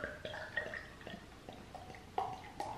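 Yuengling Hershey's chocolate porter is poured into a glass, giving soft, faint liquid splashes and drips in an uneven patter, quiet and close.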